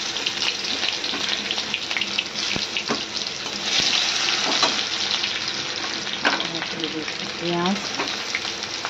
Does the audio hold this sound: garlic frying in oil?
yes